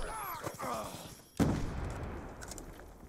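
A sharp gunshot in a Call of Duty: Black Ops 2 multiplayer match cracks out midway, with ongoing game noise around it and voices talking beforehand, all fairly quiet.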